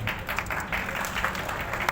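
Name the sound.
clapping during an online class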